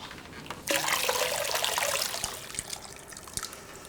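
Water is poured into a cooking pot, gushing and splashing steadily for a few seconds, then easing into a lighter trickle with a few drips, close by and fairly loud.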